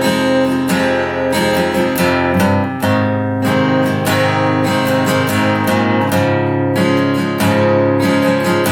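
Guitar playing a song slowly, a steady stream of plucked and strummed notes with a thumb-driven bass line, close and full, no talking.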